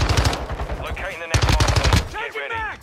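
AUG submachine gun firing in Call of Duty MWII, loud rapid automatic bursts crackling in close succession across the whole stretch, with a short gap midway.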